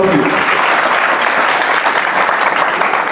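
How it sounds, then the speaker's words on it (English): Audience applause for a guest speaker at a talk, continuous loud clapping from a full room that holds evenly from start to finish. "Please, a big round of applause for him."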